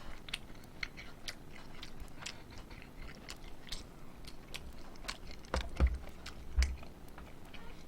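Pizza with garlic dipping sauce being chewed close to the mic, soft crunchy bites and quiet mastication ticks scattered throughout, a couple of louder bites near the end, no talking.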